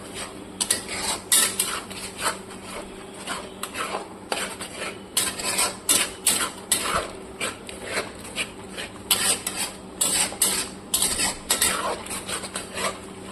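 Chicken korma masala cooking in a pan, stirred with a utensil that scrapes and clinks against the metal in repeated irregular strokes over a quiet background, with no talking.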